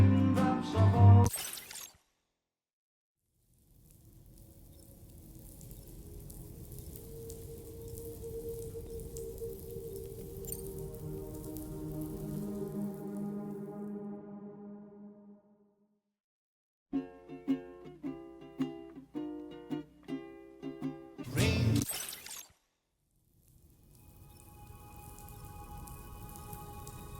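Rain in the video game Death Stranding 2, a soft steady patter rising and fading across several long stretches, broken by sharp bursts and a tonal musical passage, with no talk.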